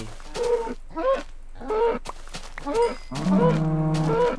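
Cows in the Minecraft video game give a series of short, nasal moos, about six in quick succession, loud and close, ending in a longer drawn-out low moo.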